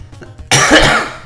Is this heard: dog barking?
no